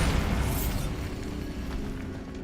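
A Bombarda spell explosion in Hogwarts Legacy on PS5, a loud, close boom that bursts at once and then rumbles down into a lingering low roar.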